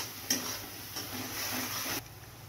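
Spice masala being stirred for a vegetarian curd, paneer and pointed gourd curry: a steady scraping, stirring hiss with soft sizzle, louder from about a third of a second to two seconds, then quieter.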